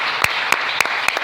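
Congregation at a church service applauding the Lord: a few sharp, separate claps spaced about a quarter second apart over a steady bright hiss, sounding like sparse clapping from a crowd rather than full applause.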